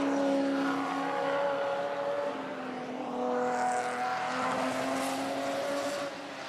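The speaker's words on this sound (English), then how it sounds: "so they're the two big, noisy, brutal-looking Chevrolets." Big Chevrolet GT4 race cars roar around the Spa-Francorchamps circuit, their loud engines droning and shifting pitch as they pass in a sustained, overlapping rush.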